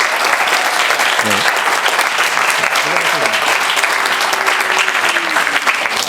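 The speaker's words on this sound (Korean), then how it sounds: "큰 박수로 환영해 주시면 감사하겠습니다." Loud, continuous applause from a student audience at a youth spiritual retreat, welcoming a pastor onto the stage; dense, even clapping fills the whole stretch, with brief voices rising faintly beneath it.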